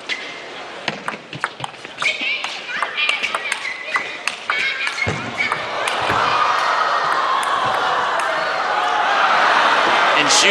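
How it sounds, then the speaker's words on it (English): At a 2014 China Open men's table tennis quarterfinal, sharp ball strikes and bounces give way to a swell of loud, sustained crowd applause in a large arena, with a commentator speaking over it. "were so impressed with the point that they couldn't hold back their applause"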